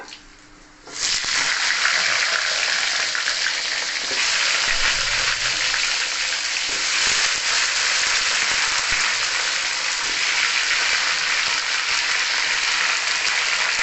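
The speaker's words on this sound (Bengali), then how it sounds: "এই যে কেটে রাখা আলু এর তেলের মধ্যে দিয়ে দেবো" Cut potatoes hit hot oil for a Bengali hilsa curry and burst into a loud, continuous sizzle after a quiet first second, with occasional stirring knocks under the steady hiss.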